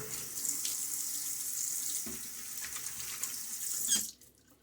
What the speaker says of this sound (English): Now a splash of water.